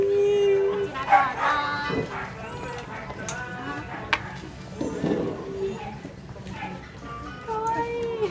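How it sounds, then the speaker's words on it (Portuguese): Puppies in a pet shop yip and bark in short, scattered bursts close by, mixed with excited chatter from people talking over them. "Aí tem os cachorrinhos aqui."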